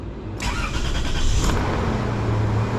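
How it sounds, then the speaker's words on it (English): A 2000 Toyota 4Runner engine cranks briefly and catches, then settles into a steady loud idle close by. "then you want to hold it down and turn on the engine."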